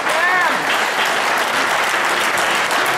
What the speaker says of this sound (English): Let's give a round of applause for Marcus Garvey Jr.